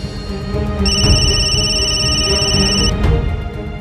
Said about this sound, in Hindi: फोन आया तो उठा क्यों नहीं रहा?